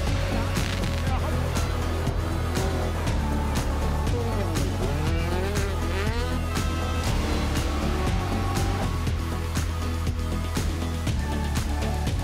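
Rally cars racing at Rallylegend 2025, engines revving and tires squealing in a loud, continuous stream of motor noise with a steady low rumble throughout.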